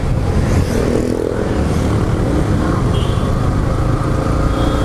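A Yamaha R15 v3 motorcycle's engine hums while being ridden, a steady close drone mixed with wind and road noise, with a slight change in pitch as it runs smoothly along.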